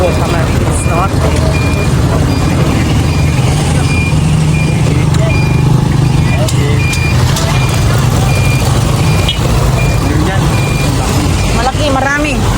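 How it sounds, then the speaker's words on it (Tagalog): Road traffic passes outside a resort in Camarines Norte, with a truck's low engine rumble and reversing beeps over steady vehicle noise, close and loud while people talk nearby. "Malaki, marami. May truck."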